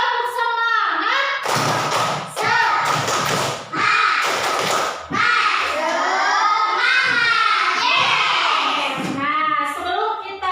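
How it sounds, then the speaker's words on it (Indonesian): Classroom of children clapping hands in a rhythmic chant pattern, loud and close, with shouted voices mixed among bursts of claps and a teacher's voice leading. "Tepuk 1, tepuk 2, tepuk 3, tepuk semangat."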